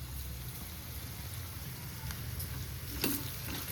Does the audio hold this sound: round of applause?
no